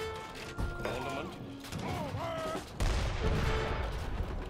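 Bombard cannons fire during a siege of Malta in Age of Empires III, sharp blasts and crashing impacts mixed with a battle din and a voice calling out over the gunfire.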